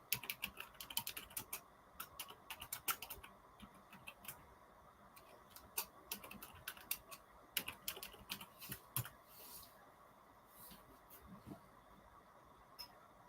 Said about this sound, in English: Oh, I'm typing away and nothing's happening.